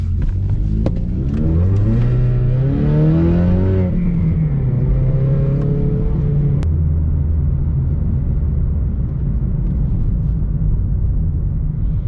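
A Ford Mustang EcoBoost accelerates hard, its engine note climbing through rising harmonics over the first four seconds, then settling into a steady loud drone of engine and road rumble heard from inside the car, with no talking.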